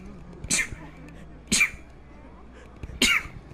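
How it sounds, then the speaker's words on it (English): Three sharp sneezes burst out at roughly even intervals, close and fairly loud, each a quick explosive puff over a quiet background hum. "I sneeze."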